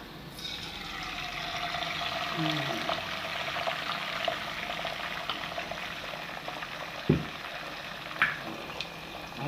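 Beaten eggs frying with garlic in a hot pan give a steady sizzle throughout, with a few sharper clicks and pops near the end.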